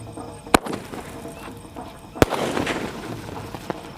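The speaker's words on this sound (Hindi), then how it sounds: "और ये चल रहा हमारा सेंथिल का स्काई शॉट, पेंटा स्काई शॉट सेंथिल का" A Senthil Penta sky shot firework fires at night during Diwali: two sharp, loud bangs about two seconds apart, each followed by crackling and fizzing bursts and smaller pops.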